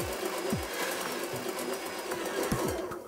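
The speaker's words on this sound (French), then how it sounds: "Dans les blancs, on ajoute une pincée de sel et on va les monter en neige bien ferme." An electric mixer whips egg whites with a pinch of salt toward stiff peaks, a close, steady motor whir with rhythmic knocking thumps about twice a second as the beaters hit the bowl.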